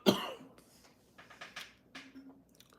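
A single sharp cough up close at the start, followed by quiet clicks and rustling sounds.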